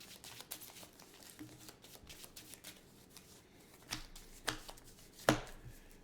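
Cards being shuffled during a Clank! Catacombs board game, a quiet run of riffling and papery taps with a few sharper snaps near the end, close and alone.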